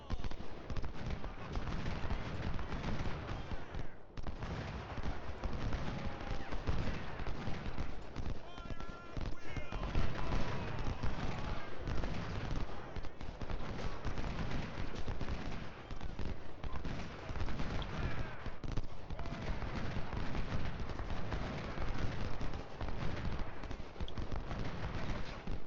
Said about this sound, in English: Let's try to get up close and deliver a solid volley into Burnside.